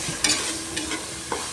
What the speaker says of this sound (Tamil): இஞ்சி பூண்டு பேஸ்ட்டு போட்டு நல்லா வதக்கி விட்டுக்கோங்க